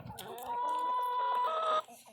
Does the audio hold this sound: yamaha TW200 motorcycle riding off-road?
no